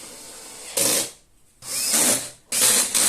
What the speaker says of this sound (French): Si vous utilisez une visseuse, attention au couple